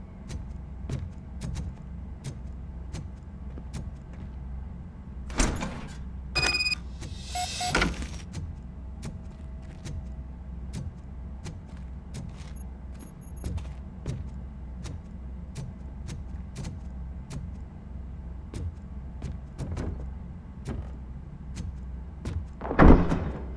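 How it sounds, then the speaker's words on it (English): A car door opens in RoboCop: Rogue City, with a few clunky mechanical bursts standing out over a steady low ambient hum and regular ticking, and a sharper thump near the end. "Now let me get that door open for you."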